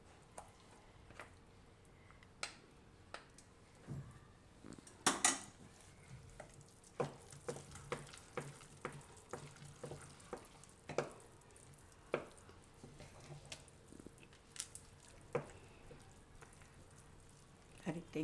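Spoon stirring mixed dal and cracked wheat khichdi in a pot, soft scrapes and knocks against the pot repeating irregularly, close but fairly quiet, with a brief louder clatter near the middle.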